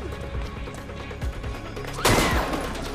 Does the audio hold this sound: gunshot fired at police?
yes